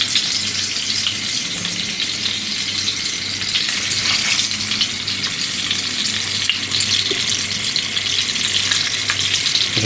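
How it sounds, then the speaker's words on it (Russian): Pike fish cutlets fry in a hot pan, giving a loud, steady sizzle with a bright crackle that holds evenly throughout, close by and with no talk over it. "Ну, теперь давайте с вами обжарим."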